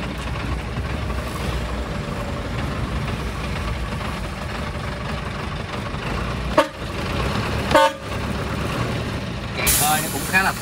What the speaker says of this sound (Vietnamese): em sẽ lên cái phần cabin nhắn ga cho bà con mình nghe âm thanh tiếng máy nó thử như thế nào nha